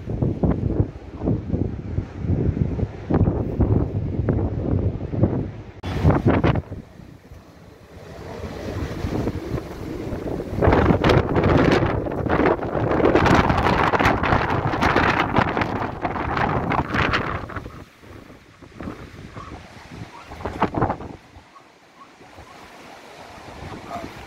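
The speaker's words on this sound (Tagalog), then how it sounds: "Hangin lang talaga ito na malakas" Strong typhoon wind roars and buffets the microphone in heavy gusts, rising and falling, with a rushing surf-like background that eases near the end.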